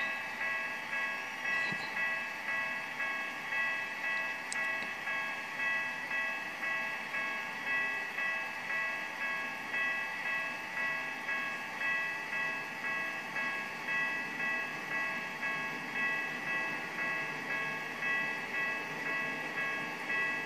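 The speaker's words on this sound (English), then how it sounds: "Now one of the trams is gonna cross this crossing." Simulated Japanese tram passing over a level crossing in the Trainz game, with a steady ringing crossing bell pulsing in a fast even rhythm throughout and faint rolling rail noise beneath, no voices.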